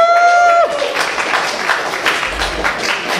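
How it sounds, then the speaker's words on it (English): Audience applause at a Libertarian Party of King County event in Seattle, a steady wash of clapping from a crowd that continues throughout, following a short tonal whistle or feedback at the start. "I hope you give a round of applause to everybody in LPKC"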